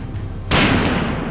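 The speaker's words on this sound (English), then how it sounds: "2 shots rang out in quick succession." A single sharp, loud gunshot cuts in after a quiet moment during a wild boar hunt, followed by a lingering rumbling echo.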